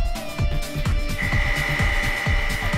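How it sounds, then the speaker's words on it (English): Coarse sandpaper rubbed by hand over a car's front lip to even out the area before touch-up paint, heard as a steady run of quick, rhythmic scraping strokes, close and fairly loud, over a faint tonal background. "He's gonna start off with the coarse sandpaper to make the area even"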